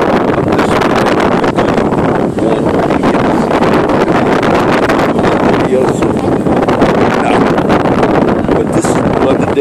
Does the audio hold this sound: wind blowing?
yes